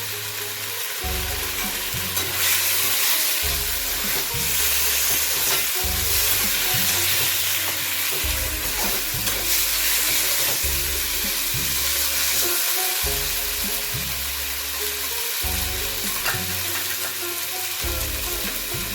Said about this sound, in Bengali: এই যে আলুটা ভেজে দিচ্ছিলাম